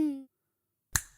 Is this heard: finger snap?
yes